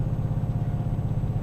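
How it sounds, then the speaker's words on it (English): A Renault Range T truck engine revs hard uphill in a video game, a loud, steady low drone with a fast, even pulsing throb lasting under two seconds. "I'm keeping this thing revving. I don't trust it up this hill."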